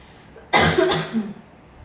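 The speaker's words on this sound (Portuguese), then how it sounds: "que eu estou tossindo, porque eu estou com a minha garganta inflamada" A man with an inflamed throat lets out a single short, harsh cough up close, followed by a smaller second hack, then quiet.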